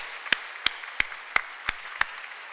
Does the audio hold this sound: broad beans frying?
no